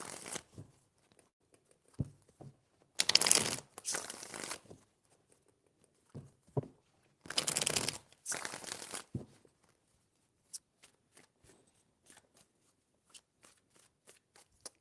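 Tarot cards are shuffled in several short bursts of riffling and flicking, close and quiet, separated by pauses with small taps and handling sounds.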